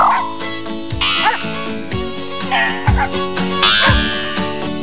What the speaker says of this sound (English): dogs all over Australia are jumping for joy